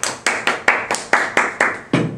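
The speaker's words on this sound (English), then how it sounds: "Give him a clap." Audience clapping in sharp, distinct bursts, roughly eight claps in quick succession, near and fairly loud, with no talk over it.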